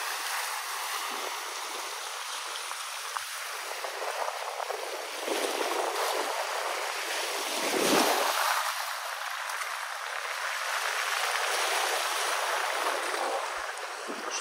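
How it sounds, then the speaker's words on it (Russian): Sea waves washing onto an abandoned beach at Imeretinsky, Adler, a soft continuous rushing surge that swells and recedes at moderate distance, with no talking. "посмотреть на море и послушать его шум."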